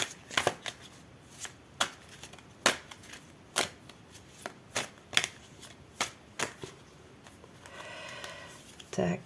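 Tarot cards being shuffled by hand: a run of about a dozen crisp, separate riffling slaps at uneven intervals, close and fairly clear, ending with a softer longer shuffle, with no one speaking over it.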